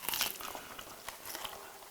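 Crunchy bites into freshly released cornflake-coated fried chicken with garlic pepper seasoning, crisp crackly crunches close to the mic over about two seconds, with no talking.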